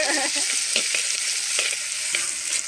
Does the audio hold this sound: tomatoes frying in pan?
yes